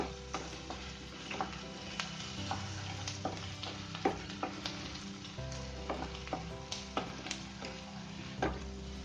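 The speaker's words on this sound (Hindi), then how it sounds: "प्याज को लाल होने तक भूनेंगे।" Onions sizzle in hot oil in a pan while poha is being made, a soft steady crackle broken by sharp clicks and scrapes of stirring at close range.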